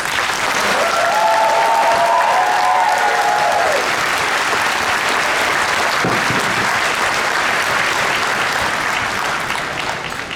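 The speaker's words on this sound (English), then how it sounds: "Can I get a big round of applause for this class?" Loud, sustained applause from a large crowd honoring the graduating class at a UIC commencement ceremony in Chicago, continuing steadily for about ten seconds with a brief whistle or cheer near the start.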